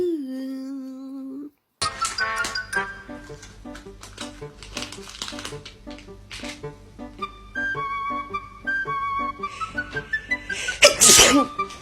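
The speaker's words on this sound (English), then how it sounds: "I feel like sneezing." A woman sneezes loudly near the end during a Covid-19 nasal swab test, after a stretch of bright electronic tones and rhythmic beeping; a brief voice is heard at the start.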